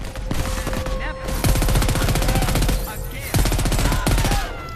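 Rapid automatic gunfire in Crackdown 3, a dense burst of shots rattling on loudly and close with only brief pauses, other game effects mixed underneath.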